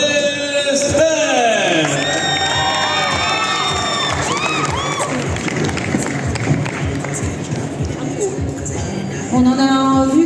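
A convention audience cheering and applauding as comedians arrive at a conference in Dijon, a dense, loud roar of claps, whoops and shouting voices that carries on steadily, with a high whistling tone rising above it.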